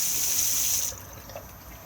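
A tap runs at the washroom basin of a 2021 Elddis Majestic 250 caravan, a steady hissing gush that stops partway through, leaving faint room noise.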